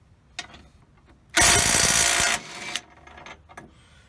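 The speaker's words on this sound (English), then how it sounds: "let's see if the snap-on is capable of removing this fastener at 150 foot-pounds." A Snap-on impact wrench set to 150 foot-pounds hammers loudly on a rusted bolt in one sustained burst of about a second, preceded and followed by quieter handling clicks and a short trailing buzz.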